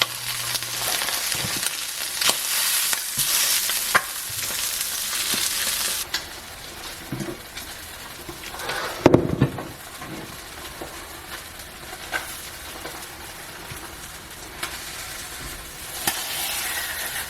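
Breakfast frying in a pan and being turned over constantly to stay soft, a loud continuous sizzle with scraping turns and a sharp clatter midway, close up with no talking.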